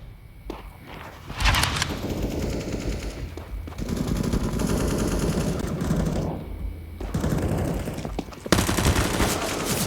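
Video game gunfire, including Mag 7 shotgun blasts, crackles in loud bursts with rapid automatic fire and footsteps between volleys, intense and close throughout.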